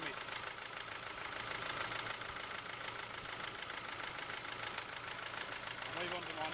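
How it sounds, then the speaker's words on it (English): 2008 Nissan Navara D40 engine idling roughly with a cylinder misfire: a steady, uneven chugging idle with a faint high whine above it, heard close at moderate level. "it's running quite roughly. Definitely have a cylinder miss"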